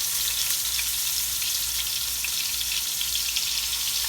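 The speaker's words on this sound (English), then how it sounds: "I want to make sure we get a nice sear" Beef sears in an extremely hot pan for Haitian-style lalo with jute leaves, giving a loud, dense, continuous sizzle close by and no talking.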